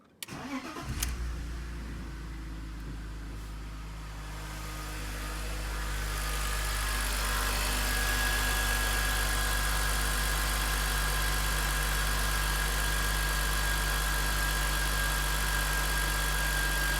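A BMW E46 engine cranks and catches after a full service, then settles into a steady, loud idle with a constant low hum for the rest of the stretch, heard up close with no talking.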